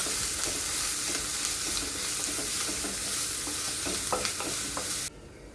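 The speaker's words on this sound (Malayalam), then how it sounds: "അതും ലൈറ്റ് ബ്രൗൺ ഷെയ്ഡ് ആവുന്നിടം വരെ നമുക്കിങ്ങനെ ഇളക്കി കൊടുത്തുകൊണ്ടിരിക്കുക" Ginger garlic paste sizzling and frying in a pan while being stirred, a steady close hiss with scraping stirs throughout, ending abruptly.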